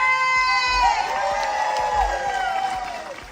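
Audience applause and cheering after a rock and roll performance at a community recognition event, a loud crowd roar with whoops and shouts and a sustained tonal whistle or squeal over it for the whole span.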